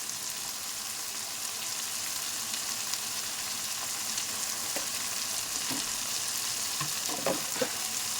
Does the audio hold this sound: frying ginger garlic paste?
yes